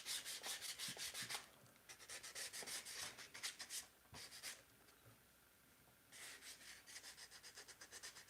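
Sandpaper rubbed over a wooden knife sheath in a workshop, giving quick repeated rasping strokes in bursts with short pauses, close and fairly loud.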